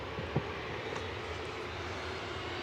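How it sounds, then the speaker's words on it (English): A Ryanair jet departing Manchester Airport for Naples, heard as a steady, moderately distant engine roar with no speech over it. "Ryanair departing to Naples in front of us with flight 6835."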